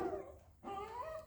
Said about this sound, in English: I'm kind of disregarding the barking.